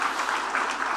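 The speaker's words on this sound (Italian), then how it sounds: "questo applauso è per la minoranza" Audience applause at the Forum Ambrosetti in Cernobbio, a steady dense wash of clapping from a large hall crowd, sustained and even throughout.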